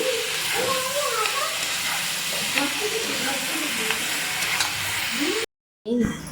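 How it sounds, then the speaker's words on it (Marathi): Onion and dried coconut roast in a hot pan with a continuous loud sizzle and occasional stirring scrapes, while a voice murmurs faintly underneath; a short gap of silence falls near the end. "आता कांदा खोबरे आणि सुकं खोबरं भाजून घेऊन कांदा भाजतो आहे"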